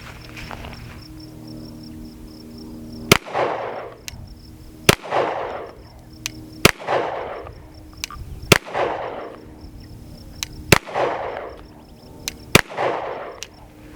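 Rifle shots fired at a target while checking a GOWUTAR A20 optic for zero after drop testing: six sharp, loud cracks spaced roughly evenly, each followed by a brief echoing tail, with quiet outdoor ambience between.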